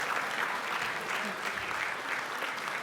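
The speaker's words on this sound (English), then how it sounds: "round of applause." Steady applause from an audience at an ethnic business awards ceremony, broad and even throughout with no gaps, filling the hall at moderate loudness.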